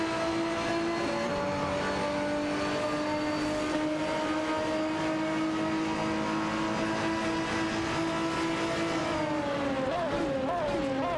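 Race cars, among them a Lamborghini Murcielago RGT, roar around a track in a racing video game, one sustained high engine whine holding steady and then wavering through gear changes toward the end, loud and constant throughout.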